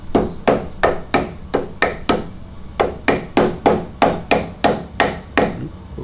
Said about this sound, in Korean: 플라스틱이기 때문에 나무 망치 같은 걸로 때려주시면 됩니다